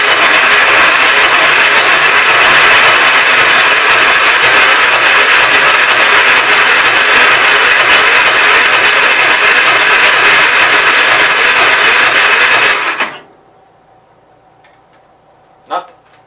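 A Gravely 810 garden tractor engine roars steadily and loudly at close range for about thirteen seconds after gas is poured into the carburetor throat, then cuts out abruptly, leaving near silence broken by one brief knock.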